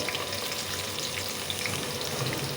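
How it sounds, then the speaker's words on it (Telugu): Garlic and onion pieces fry in a pan for mushroom biryani, giving a faint, even crackling sizzle throughout. "వెల్లుల్లి ఆనియన్ ముక్కలు వేసుకొని"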